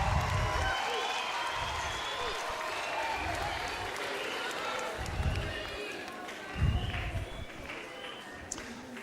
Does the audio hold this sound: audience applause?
yes